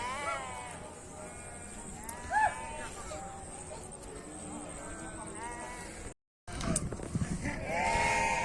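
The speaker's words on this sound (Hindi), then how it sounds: "देख लीजिए कितना सा भेड़ी है" Several sheep bleat at varying pitches amid a noisy outdoor crowd of animals in a rain-flooded village field in India, with a brief dropout near the end.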